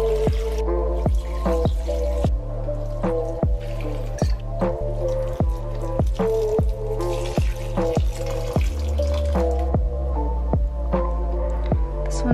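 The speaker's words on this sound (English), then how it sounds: "Watering day, they're all due for a drink." House plants being watered indoors, a steady trickle and pour of water splashing into potting soil with small drips, continuous and close, no voices.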